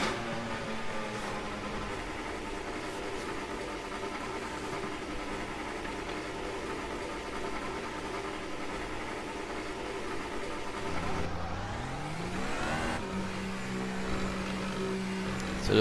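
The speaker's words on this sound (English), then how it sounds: "Engine fired." A Formula 1 car idles steadily in F1 2018 at the Austrian Grand Prix qualifying, a low even hum that then swells as the revs climb and fall away again near the end.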